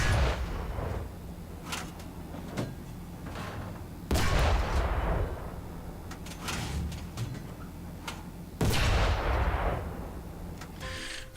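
Three heavy booming shots from the 45mm 20K gun of a T-26 tank in War Thunder, spaced several seconds apart, each a sharp loud crack with a decaying rumble, with faint mechanical clanks between them.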